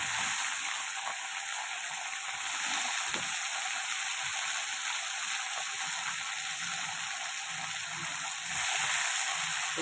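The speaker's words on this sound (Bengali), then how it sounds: "তো আগে এটা ভালো করে আগে একটু ভাজাতে করে নিই।" Steamed cauliflower and potato pieces sizzle in hot oil in a pan, a bright, steady crackling hiss with occasional stirring clatter, close and continuous.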